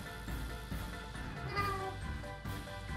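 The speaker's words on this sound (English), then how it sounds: "It's a cat!" Cats meow in the video game Guts and Glory, with several tonal meows rising over a busy backdrop of game sounds.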